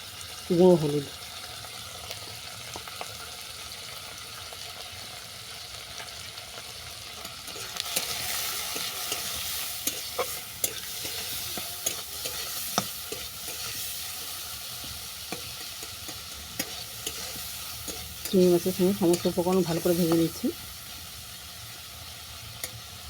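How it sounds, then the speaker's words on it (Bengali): Shrimp and spices frying in a pan give a constant close sizzle, with scraping stirs near the start and end and talking in between. "চিংড়ি মাছের সঙ্গে সমস্ত উপকরণ ভালো করে ভাজা হয়ে গেছে"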